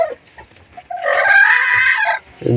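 A backyard hen sitting on her nest gives a drawn-out, nasal cluck close to the mic, framed by short softer clucks before and after it, with no talking.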